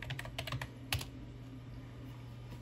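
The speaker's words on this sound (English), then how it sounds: "I'm going to type Y and type in your password." A computer keyboard on a PowerPC Mac clicks in a quick cluster of keystrokes followed by one firmer tap, close and fairly quiet, then silence with faint background hum.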